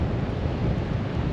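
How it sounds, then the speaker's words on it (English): Ocean waves breaking along the coast of Rurutu in the Austral Islands, a brief steady wash of surf mixed with wind buffeting the microphone, with no voices. "Got some waves breaking over."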